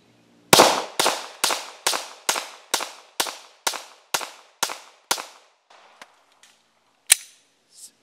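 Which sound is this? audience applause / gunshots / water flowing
gunshots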